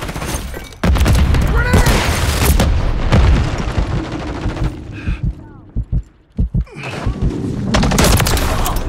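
Rapid gunfire and a grenade blast in Call of Duty Modern Warfare III Team Deathmatch, dense volleys with booming impacts, a short lull, then shooting resumes loudly; shouted game voice lines break through.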